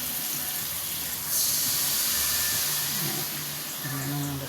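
Water poured into a pot of chicken curry, a steady splashing rush close by that shifts in tone partway through as the pot fills.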